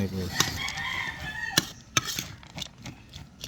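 A small flock of five chickens clucks and crows near a spot where feed is mixed with rice and fermented grains, the calls mixed with sharp knocks and rustling handling sounds, fairly faint overall.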